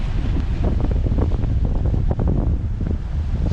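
Steady wind buffets a boat on choppy Intracoastal Waterway water, a loud, continuous rumbling roar with splashing surges close by, no voices.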